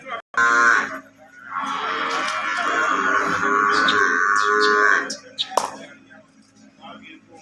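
A buffalo at a dairy farm lets out one long, loud, close moo lasting several seconds, followed by a few sharp knocks and quieter farm sounds.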